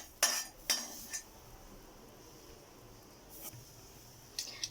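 Cabbage dosa batter being mixed in a bowl, a few sharp utensil clinks against the vessel spaced out over a quiet background, with faint scraping between them.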